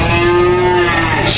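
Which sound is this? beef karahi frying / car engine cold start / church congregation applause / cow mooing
cow mooing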